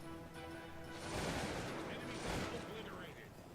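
Massed musket volleys crackle through a Napoleonic-era battle in Cossacks 2, a dense, sustained roar of gunfire swelling midway with no individual shots standing apart.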